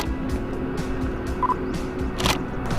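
Peacocks roaming on a road let out a series of short, harsh calls in uneven bursts, moderately close, over a low steady background rumble.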